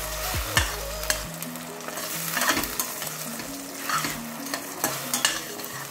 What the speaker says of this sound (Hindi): इसको हम अच्छे से भून लेंगे प्याज को।